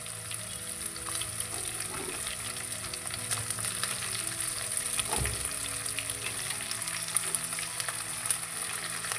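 Mixed vegetables sizzle steadily in a hot pan, a close, continuous frying hiss with occasional soft knocks and stirring scrapes, and no one speaking.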